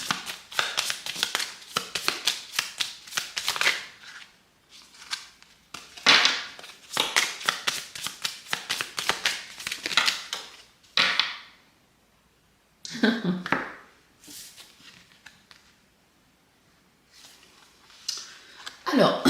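Tarot cards being shuffled and drawn, with rapid bursts of close riffling and flicking separated by pauses and a few soft slaps as cards are laid down. Faint talk is heard in places.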